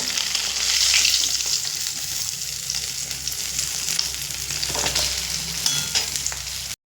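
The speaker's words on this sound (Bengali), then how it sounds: "দেখুন মাছের মাথা তো ভাজা হচ্ছে" Fish heads frying in hot oil for a festive muro ghonto, a dense continuous sizzle and crackle heard up close, with occasional faint pan clinks and no talk.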